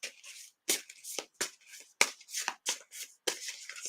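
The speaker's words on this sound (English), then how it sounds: "So as I'm shuffling, I'm waiting for a card to speak to me." Tarot cards are shuffled close up in a quiet room, a series of crisp riffling bursts and soft slaps separated by brief pauses.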